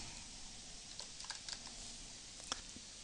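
Quiet keystrokes on a computer keyboard entering photo attribute data, a few soft irregular clicks over steady background hiss, no talking.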